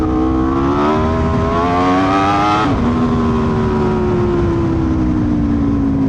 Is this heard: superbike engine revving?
yes